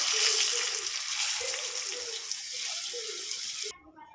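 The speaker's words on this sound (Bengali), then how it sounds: "একটু লঙ্কা দিয়ে দেবো কপিগুলো ভেজে নেব" Cauliflower frying with chili and turmeric in oil in a pan for a spicy Bengali dish, giving a steady close sizzle and hiss that cuts off sharply near the end, with a voice talking faintly underneath.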